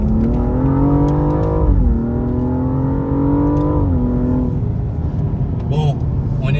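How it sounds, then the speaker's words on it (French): A BMW 235i accelerating hard in second gear during a daytime open-road drive, the engine note climbing loud and steady from inside the cabin, dipping at a shift and pulling again. "j'ai mis un petit coup de gaz en deuxième"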